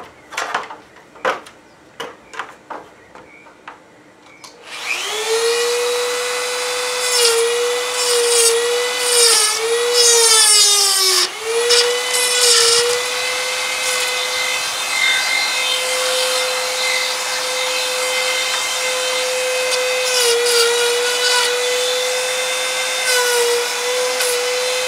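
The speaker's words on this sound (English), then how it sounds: "I need to trim it off, and I'll use my favorite tool, a Dremel" Dremel rotary tool trimming stucco overlay on a house gable end: several short tapping knocks, then a loud high-pitched motor whine that starts abruptly, wavers under load as it grinds, and holds steady for about twenty seconds.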